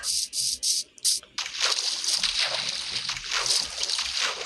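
Water sloshes and splashes in the Minecraft video game as a player leaves the sea, a few short bursts followed by a sustained rushing churn.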